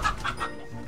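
Three short clucks from a chicken in quick succession, fairly close, then quiet background.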